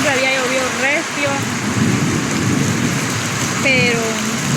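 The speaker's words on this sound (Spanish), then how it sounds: "Siempre había llovido recio" Heavy rain pours down steadily during a thunderstorm, with a low rumble of thunder beneath it; a voice is briefly heard over the downpour.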